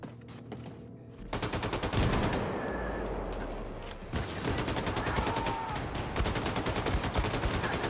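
Dense automatic gunfire from the video game Wolfenstein II rattles on continuously in rapid bursts, loud and close, after a few scattered opening shots.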